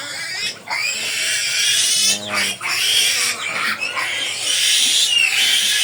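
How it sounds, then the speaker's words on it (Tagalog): A litter of piglets grunts and squeals loudly, a near, continuous chorus of shrill cries with short breaks, no voices over it. "sumubok na naman po tayo mag-alaga ng baboy"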